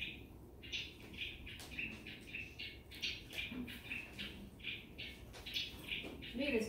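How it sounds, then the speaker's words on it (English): Recorded sparrow song plays as a run of repeated short, high trilled phrases at moderate volume over a faint hiss, with a low voice briefly near the end. "Maybe this is not very aggressive singing, but you know, sparrows are very advanced with this song."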